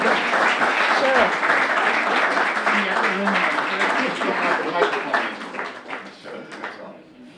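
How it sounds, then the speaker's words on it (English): Audience applause at a high school alumni association awards ceremony, a dense steady clapping that fills the room for several seconds before thinning out and fading near the end, with a few voices mixed in. "another round of applause for Sarah."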